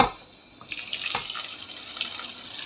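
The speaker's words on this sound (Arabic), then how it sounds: "ندير فيه ماء سخون. هاوليك الماء يكون مغلي سخون" Hot boiling water pours steadily into a cooking vessel for lentils, a soft start followed by a continuous splashing rush that holds close and fairly loud until the end.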